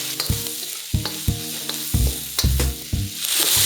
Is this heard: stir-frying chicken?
yes